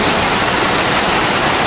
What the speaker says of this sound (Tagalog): ang lalakas ang tubig